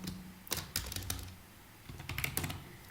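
Code being typed on a computer keyboard, two quick bursts of close, clicky keystrokes separated by a short pause, quiet and without talk.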